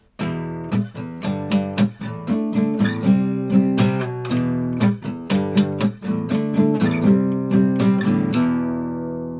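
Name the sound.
guitar playing the chords of a song together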